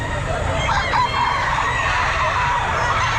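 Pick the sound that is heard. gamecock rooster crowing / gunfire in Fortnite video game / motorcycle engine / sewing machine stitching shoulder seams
gamecock rooster crowing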